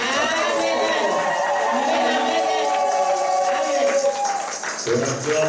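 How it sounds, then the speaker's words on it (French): A church congregation at worship raises cries of joy, with voices shouting and calling out together in a loud, sustained swell that briefly dips near the end. "on pousse les cris de joie pour la gloire du Seigneur"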